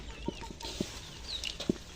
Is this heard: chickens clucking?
yes